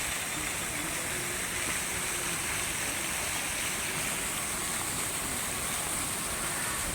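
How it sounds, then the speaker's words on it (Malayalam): A newly built artificial waterfall at a zoo gives a steady, dense roar of falling water, loud and unbroken throughout, with no voices. "ഇത് പുതിയതായിട്ട് നിർമ്മിച്ച ഒരു വെള്ളച്ചാട്ടമാണ്."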